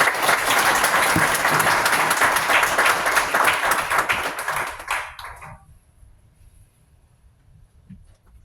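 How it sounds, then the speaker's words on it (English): An audience at a tech demo night gives a loud, sustained round of applause that stops abruptly about midway, leaving faint room noise. "Let's give him a round of applause."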